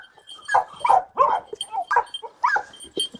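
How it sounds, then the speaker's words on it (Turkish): A Çapar dog, a Kangal-type breed, barks and yips repeatedly at close range, with whiny, uneven barks coming in a loose rhythm. "gerçekten Kayseri'de güzel çapar köpekler varmış"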